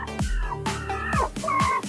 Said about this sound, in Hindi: फाइटर मुर्गा है ये